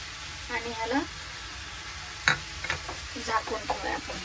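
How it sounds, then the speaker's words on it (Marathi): Chicken pieces sizzle in a pan during cooking for spinach chicken, a soft frying crackle under the stirring, with a few sharp scrapes of the spoon against the pan and some talk in the background. "चिकन आता मस्त आपण फ्राय करून घेऊ"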